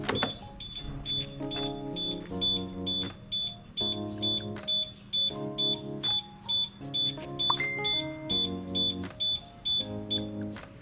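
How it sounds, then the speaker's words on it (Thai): A motorcycle anti-theft alarm beeps in a fast repeating rhythm, cycling through shifting tones with sharp high chirps, close and continuous. The bike is an I-Motor Vapor electric motorcycle. "เป็นการเริ่มให้สัญญาณการขโมยทำงานนะครับ"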